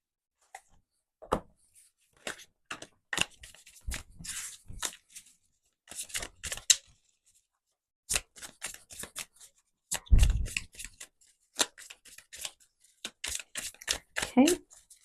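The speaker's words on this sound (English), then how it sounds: "let's give the cards a quick shuffle" Tarot cards shuffled by hand during a crystal pick-a-card reading, bursts of papery riffling and slapping in irregular clusters separated by pauses, close and fairly quiet.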